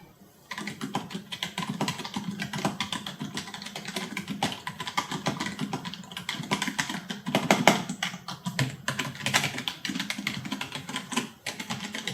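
Fingers type steadily on a SteelSeries Apex 3 RGB gaming keyboard with membrane keys, producing a continuous run of soft, close clacks and taps at an uneven rhythm for about twelve seconds, with no talking.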